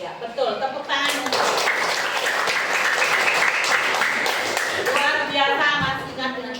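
Schoolchildren clapping together in a classroom, a dense burst of applause lasting several seconds, with a teacher's voice briefly before and after.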